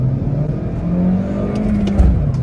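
A car accelerates hard in first gear with a loud, close engine drone that holds steady and slowly rises in pitch, with no talking over it.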